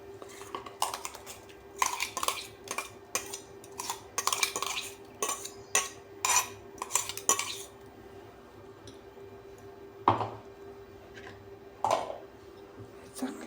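Coarsely crushed corn is mixed with a spoon into soaked semolina in a bowl, giving repeated clinking and scraping strokes in bursts, with a quiet hum underneath and pauses between strokes.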